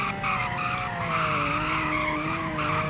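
A car in the Roblox game Greenville braking hard from high speed, giving a loud, sustained tire squeal and skid that holds steady for a few seconds over engine noise.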